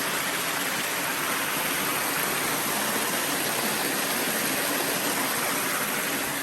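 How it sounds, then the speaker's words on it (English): A river near a picnic pavilion rushes steadily in a dense, unbroken broadband roar, close and loud throughout with no voices. "there's a river"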